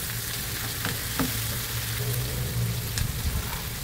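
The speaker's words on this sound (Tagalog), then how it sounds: "Gisa-gisa lang po natin." Onion, garlic and tomato sauté in a hot pan with a continuous close sizzle, broken by a few faint clinks and stirring scrapes.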